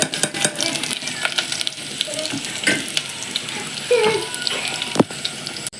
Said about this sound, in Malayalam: ഉള്ളി മൂത്തോണ്ടിരിക്കുന്നത്